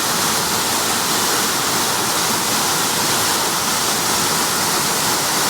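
Achankallu waterfall roars as a loud, constant rush of falling water, a dense unbroken wash close by with no voices.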